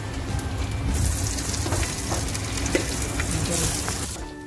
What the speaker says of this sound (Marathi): तेल तापलेलं आहे. आता आपण त्याच्यात बरिस्ता टाकलेला आहे.